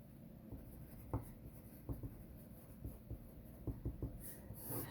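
Marker or chalk strokes on a board during a precalculus lesson, a series of short scratchy taps and squeaks in an irregular rhythm, close and fairly quiet against a faint room hum.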